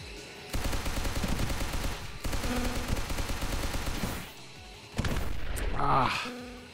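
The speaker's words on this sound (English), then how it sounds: "Switch to my guns." Aircraft guns fire in the flight combat game Sky Rogue as long rapid bursts. There are two sustained volleys, a short pause, then a final burst mixed with explosion-like game effects.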